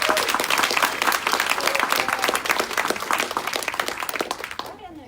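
A town hall audience applauds loudly in a dense, continuous wash of claps that tapers off near the end, with some voices mixed in.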